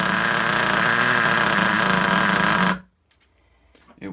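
Old nitro engine of a vintage Traxxas Rustler RC car, running lean, roars loud and close with a steady buzzing drone for nearly three seconds, then cuts off abruptly, leaving faint clicks and handling noise.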